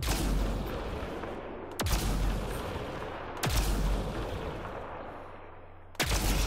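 Explosions in the sci-fi shooter video game Mass Effect: Andromeda: three sharp, booming blasts spaced a couple of seconds apart, each followed by a rumbling decay, fairly near and alone without talk.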